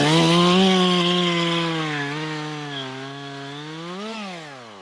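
A chainsaw with a slightly dull chain cuts into a dead tree, its engine droning loud and close under load, pitch sagging and rising as it bites through the wood.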